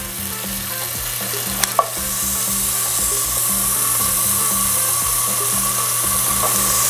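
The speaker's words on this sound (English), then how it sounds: "cook the bacon" Small bits of bacon fry in a pan, giving a continuous crackling sizzle with steady spatter, close and fairly loud, with a couple of brief utensil clicks early on and no voices.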